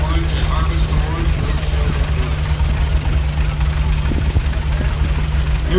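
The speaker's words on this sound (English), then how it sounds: "a Minneapolis Moline Model U is our next one" A 1950 Minneapolis Moline Model U tractor, harvest orange, runs at an antique tractor parade, its engine rumbling low and steady close by under an announcer's voice.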